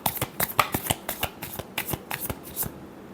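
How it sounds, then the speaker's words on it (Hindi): Tarot cards being shuffled by hand, a quick run of crisp riffling slaps and flutters in an even rhythm, close and fairly quiet, with no voices. "last shuffle"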